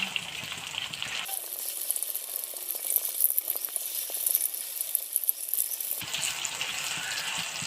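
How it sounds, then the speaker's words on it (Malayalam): Ripe plantain slices dipped in batter sizzle loudly in hot oil, a steady hissing crackle that starts abruptly, holds for several seconds close up, then drops back to quieter kitchen noise. "അപ്പം ഈ ബാറ്ററി മുക്കി വെക്കുന്ന ഏത്തയ്ക്ക എണ്ണയ്ക്കകത്തിട്ട് പൊരിച്ചെടുക്കാം"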